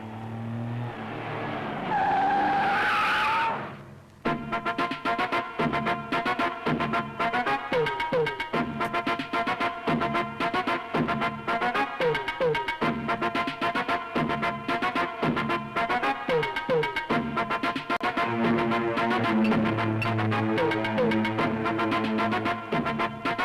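A car pulls away with a sharp tire squeal that lasts about three seconds, loud and close, and then music takes over.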